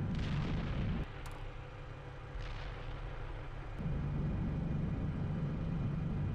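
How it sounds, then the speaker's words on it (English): Tank cannon fire in a combat video game, heavy low booms and rumbling blasts continuing through the whole stretch, loud and dense with no talk. "Yeah, I got a tank shooting me."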